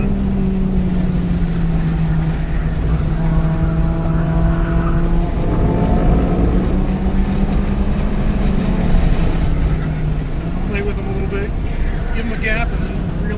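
A Miata on a race track accelerates hard up a hill, its engine drone rising steadily in pitch inside the cabin, loud and continuous, with road and wind roar beneath it.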